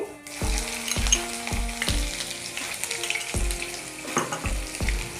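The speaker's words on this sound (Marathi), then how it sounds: "आता अद्रक लसूणची पेस्ट टाकायची" Ginger garlic paste frying in hot oil with cumin for misal, a bright crackling sizzle up close, overlaid by regular clinks and taps of a utensil against the pan at a steady rhythm.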